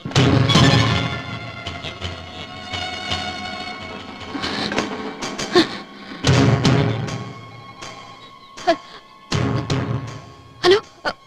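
Movie sound effect of bombs exploding inside the Express building, a newspaper office in Bombay: heavy booming blasts and rumbling debris come in a dense opening burst, then repeated sharp bangs and thuds spaced irregularly over several seconds, loud and close.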